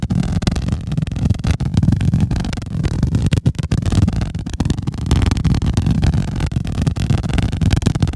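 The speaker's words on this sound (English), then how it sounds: "The plasma is a recording of me rubbing my hand over the surface of a balloon" Plasma sound effect made from a recording of a hand rubbing over the surface of a balloon, heard as a loud, continuous, crackling and rumbling texture with rapid flickering dropouts throughout.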